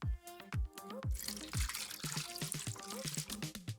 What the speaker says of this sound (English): We fill one with oil and one with water.